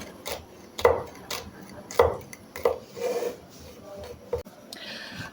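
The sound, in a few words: chopping green chilies with a knife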